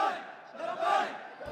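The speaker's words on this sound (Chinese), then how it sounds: "接受民众热情欢呼" A crowd of Syrian civilians cheers and shouts in celebration after the fall of the Assad government, a brief, distant roar of many voices swelling and fading.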